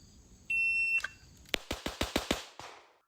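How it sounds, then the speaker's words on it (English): A Shooter's Global Go 3 shot timer gives one steady electronic beep of about half a second, followed by a rapid string of roughly seven sharp, loud gunshots during a USPSA training drill. "that I use for training purposes is going to be the Shooter's Global Go 3. It's just an awesome little timer"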